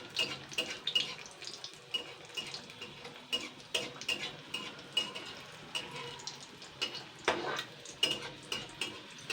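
Egg pitha frying in hot oil while oil is spooned over it, a steady sizzle with small clinks of spoon and knife against the pan, close and continuous with no talk.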